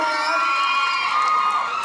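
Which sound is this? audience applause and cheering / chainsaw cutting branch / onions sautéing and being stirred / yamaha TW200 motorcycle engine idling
audience applause and cheering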